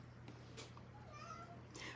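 A cat meows faintly indoors, a short plaintive call against a low steady hum, with brief soft noises around it.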